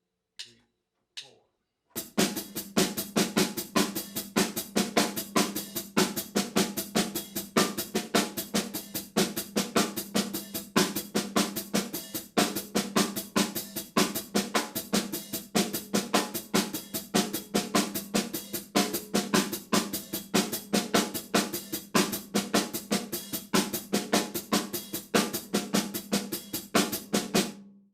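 A drum kit plays a fast, steady left-side paradiddle pattern of continuous hits for a long stretch after a few count-in clicks, dense and loud without speech.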